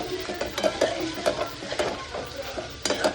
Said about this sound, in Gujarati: ત્યારબાદ આપણે એમાં નાખી દઈશું પૌવા. પછી એમને સરખાઈથી હલાવી લેવાનું.